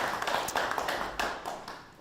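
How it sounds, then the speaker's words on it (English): Audience applause at an evening history talk, a short burst of scattered clapping from a small crowd that fades within two seconds. "Please, you should give her a round of applause."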